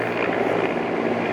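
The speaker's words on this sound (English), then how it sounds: "Okay, that's a helicopter." A helicopter drones steadily overhead outdoors on a street, a loud, continuous rotor and engine rumble with no talk over it.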